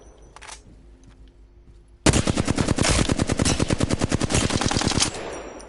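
Rapid automatic gunfire in the video game Apex Legends, a quiet pause then a loud sustained burst of evenly spaced shots lasting about three seconds before cutting off.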